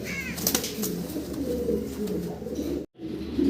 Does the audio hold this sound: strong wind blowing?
no